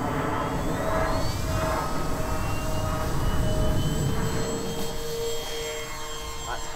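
An Avios KingTwin 1700mm twin-engine RC model airplane taking off, a steady whining electric motor drone with rising tonal pitch sweeps, fairly close and sustained throughout, with no talking.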